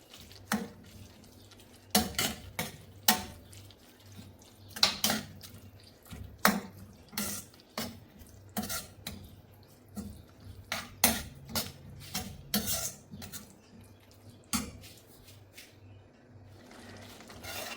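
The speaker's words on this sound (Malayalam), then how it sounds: "എന്നിട്ട് ചീരയും മസാലയും തമ്മിൽ നന്നായിട്ട് ഇളക്കി യോജിപ്പിച്ചെടുക്കാം" Amaranth leaves and masala stirred together in a pan for a Kerala-style curry, heard as repeated scraping and clinking strokes of a spoon against the metal, close and fairly quiet.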